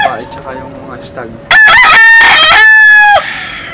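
Roosters and stags crow loudly and close, one long strained cock-a-doodle-doo call dominating after softer clucking and distant bird sounds.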